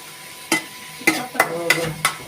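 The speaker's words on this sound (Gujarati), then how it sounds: "બધાને બધા વેજીટેબલને મિક્સ કરી દો હવે." Vegetables with salt, chilli, turmeric and coriander-cumin powder being stirred in a cooking pan, heard as five sharp, separate scraping strokes at an irregular pace, close and clear over a faint background hum.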